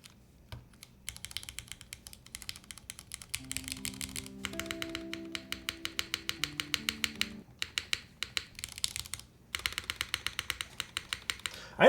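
Keys clacking on a custom F1-8X mechanical keyboard, in fast bursts of typing with short pauses, crisp and close, while a soft tonal melody plays beneath the middle stretch.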